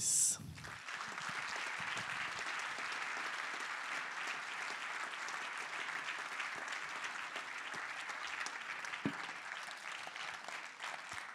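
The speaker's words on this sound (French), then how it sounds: "Et donc je vous demande d'applaudir chaleureusement monsieur Miguel Torres." An audience at a French wine interview event applauds a guest, a sustained, dense wave of clapping that holds steady for about ten seconds after a brief opening voice.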